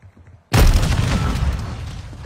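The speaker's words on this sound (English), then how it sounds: "Throwing flash grenade." A flash grenade goes off in a first-person shooter with a sudden, loud, close boom after a quiet half second, then a long, rough rumbling decay.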